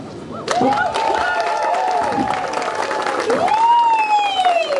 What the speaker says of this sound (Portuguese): recebo com fortes aplausos para ele, o incrível